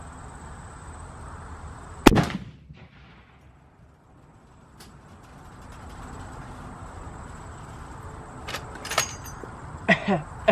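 A single loud, sharp gunshot fired at an engine block cracks out near the start, followed by a quiet stretch and then a few smaller clattering impacts and handling noises toward the end.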